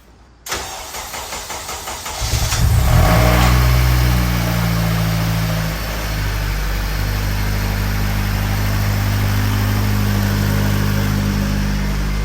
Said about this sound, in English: Now it's time to start it. Start it up.